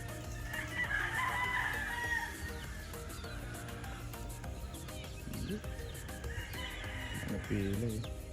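Rooster crowing at a game farm, several drawn-out cock-a-doodle-doos and clucks from multiple fowl, near and far, over steady low background noise.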